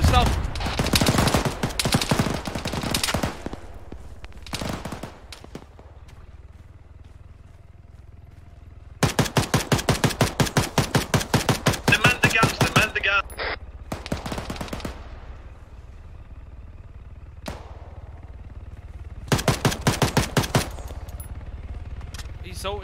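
In Arma 3, long bursts of rapid automatic machine gun fire crack out in several loud strings separated by pauses, with voices talking in between.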